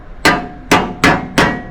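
A body hammer strikes a new floor pan being seated in a 1955 Chevy wagon during rust repair. Five crisp, loud taps come in a steady rhythm, each with a short metallic decay.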